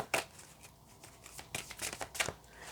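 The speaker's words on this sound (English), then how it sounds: "I don't know why I'm having so much trouble shuffling these decks today" Hands shuffling a tarot deck: quick papery riffles and slaps in a few bursts, close and fairly quiet, with no talking.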